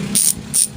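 HASSNS PRO7 bicycle freehub ratcheting in two short bursts of rapid high clicking, close and fairly loud, with a low background hum between them.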